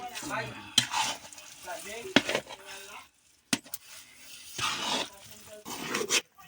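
Sticky rice for biko (sinukmani) being stirred in a pan, giving thick scraping, slapping strokes that come in irregular bursts with short pauses, close up and with no talking.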